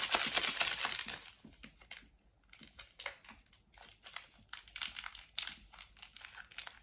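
Plastic and cardboard packaging for discount-store items torn and crinkled open nearby, bursts of sharp crackly rustling followed by scattered softer crinkles and rips.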